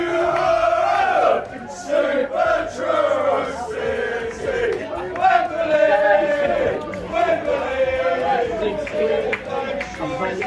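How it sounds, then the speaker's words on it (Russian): Football fans of St Albans and Truro chanting and shouting in the stands at a non-league English match, a loud rhythmic crowd chant with rising and falling voices, sung in unison. "группа молодых болельщиков Сент Олбанса сюда тоже прибежали и пытаются перекричать фанов Труро"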